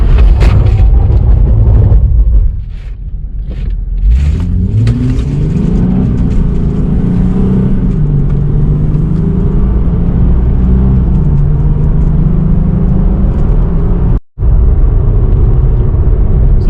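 A base coupe Nissan 370Z with an automatic transmission brakes hard from 60 mph to a stop, a loud, heavy rumble of road and engine noise in the cabin with a shifting tone, then a brief dropout near the end.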